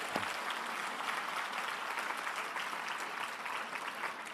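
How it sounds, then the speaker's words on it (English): An audience at a startup seminar applauds, with steady clapping from a crowd that holds at an even level for several seconds and has no talking over it. "Give her a round of applause."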